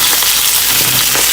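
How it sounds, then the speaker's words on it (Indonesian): Cloves and cinnamon stirred in a frying pan for chicken rendang, sizzling loudly and steadily in hot oil with faint scraping of the stirring utensil and no voices. "Ini juga cengkeh, kayu manis, aduk."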